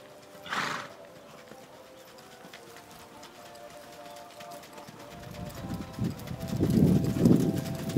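A horse moves on its feet with soft clip-clop steps over steady background hum, and its hoof sounds grow louder and heavier toward the end. A brief breathy whinny-like burst comes early on.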